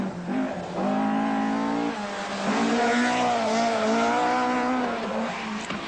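A 1980 rally car races along a tarmac stage, its engine a loud, continuous, rising and falling rasp as it accelerates and shifts, heard close and alone.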